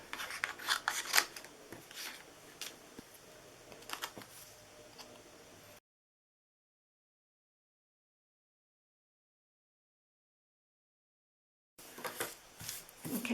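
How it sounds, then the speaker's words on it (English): Scissors snipping paper holly shapes for a Christmas treat holder, quick close crisp cuts in bursts, broken by a long stretch of total silence before the snipping resumes. "we're going to cut these holly off."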